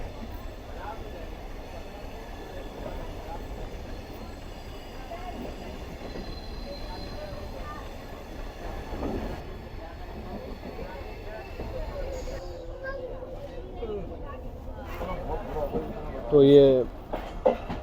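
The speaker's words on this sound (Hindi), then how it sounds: "हमारी ट्रेन अप्रोच बना रही है फाइनली कोटरी जंक्शन रेलवे स्टेशन पर" A passenger train on the Larkana to Kotri line rolls toward Kotri Junction station with a steady rumble of wagons and track noise. Someone speaks briefly near the end, and a faint squeal rises late.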